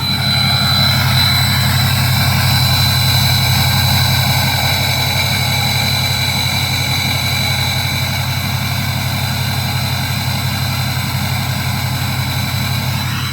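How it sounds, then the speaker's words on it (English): A car's exhaust note running steadily, loud and close, as a constant droning rumble with an even pulsing texture and no talk throughout. "listen to my exhaust and tell me if that doesn't sound different than before."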